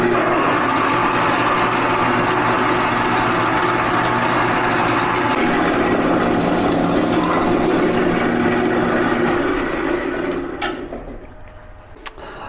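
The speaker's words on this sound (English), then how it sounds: "I'm gonna get the bandsaw going" A workshop bandsaw running while cutting blanks for milled golf course tee markers, a steady mechanical whir and hum that holds for most of the time before cutting off near the end.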